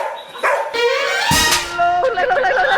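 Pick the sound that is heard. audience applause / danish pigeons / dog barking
dog barking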